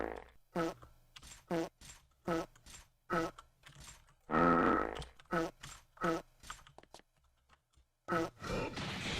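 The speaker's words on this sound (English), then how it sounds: "Farts replacing the parry sound effects." Fart sound effects stand in for the parry sounds in the fighting game BlazBlue Centralfiction, coming as a rapid series of short, punchy bursts with brief gaps between them and one longer, rougher blast midway.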